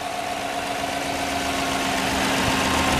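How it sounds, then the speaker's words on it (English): A 2014 GMC Sierra pickup's engine idles steadily nearby, a constant droning hum with a faint tonal whine, running alone without any talking. "I like to have my vehicles running and you can look at the engine"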